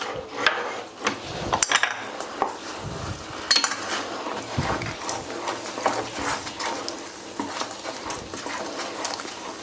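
A utensil scrapes and clatters against a pan while Madugula halwa is stirred with ghee, giving repeated close metallic scraping and knocking in an uneven rhythm, with no talking.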